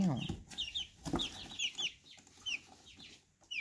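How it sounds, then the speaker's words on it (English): A friendly chicken clucking close by in a few short bursts, with soft high chirps from other birds scattered around in a quiet setting. "I love a friendly chicken."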